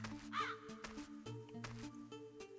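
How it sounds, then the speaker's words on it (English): Crows caw in the video game King's Field 4, a few distinct harsh calls rising over a looping musical backdrop with rhythmic tones and percussive hits. "The crows sound amazing."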